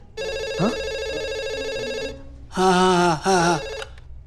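Two bursts of an electronic telephone ring: a steady tonal ring runs for about two seconds, then after a short pause two quick, louder warbling rings follow, close and clear with no talking.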